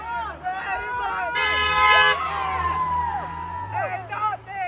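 Horns honk repeatedly amid a crowd of football fans chanting and cheering about Georgia, a long steady horn blast standing out in the middle while voices shout and sing over it.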